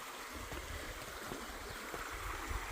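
A creek runs steadily past the spot where a trail bridge has washed out, a continuous close, full rush of flowing water with no voices.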